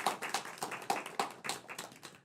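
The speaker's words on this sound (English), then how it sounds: "Can we give Golden Strip a round of applause?" Scattered applause at a music school showcase, a handful of distinct claps with uneven rhythm, fairly close and moderately quiet, no talking.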